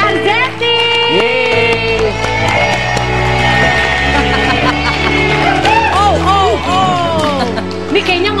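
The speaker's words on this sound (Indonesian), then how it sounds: "Yuk langsung kita beri tepuk tangan buat Mbak" A TV talk-show studio audience breaks into lively clapping and cheering for a female guest, steady and loud throughout, with bright music and whoops layered on top.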